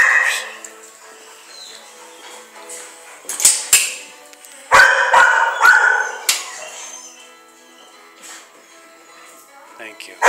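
A dog in a kennel barks and whimpers in several short, loud bursts with quieter whining between them. Speech overlaps some of the noise.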